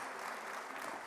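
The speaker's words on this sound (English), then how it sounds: "Just give him a welcoming round of applause." A conference audience claps in welcome for a speaker, a brief, steady burst of applause heard on its own.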